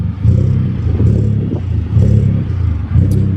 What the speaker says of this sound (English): But I'm hearing some rattle down there.